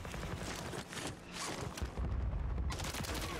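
Gunfire in Call of Duty Warzone on Rebirth Island with an MTZ 556 rifle: a loud, dense run of shots and booms, steady and close, with no talk over it.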